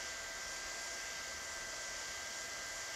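A hot air welding gun heats a PVC roofing membrane seam at a T-joint patch, giving off a steady, close, loud blowing hiss with a thin whine that runs without a break.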